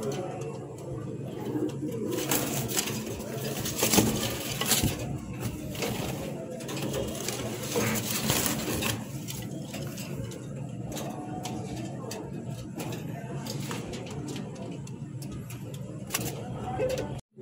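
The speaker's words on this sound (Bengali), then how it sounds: "এখন যে কবুতরটা দেখাচ্ছি এটা হচ্ছে সবজি কিং" Lahori pigeons, a red pair and a running male, coo steadily among other birds in a busy market setting, a continuous layered murmur with some background voices and noise throughout.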